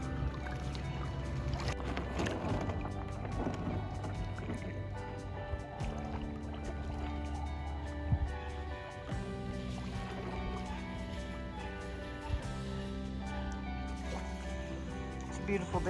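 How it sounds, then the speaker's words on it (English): A kayak paddles across lake water at Delta Lake State Park in Rome, New York; soft drips and trickling splashes from the paddle strokes sit faintly beneath a steady musical backdrop. "So we're gonna go kayaking."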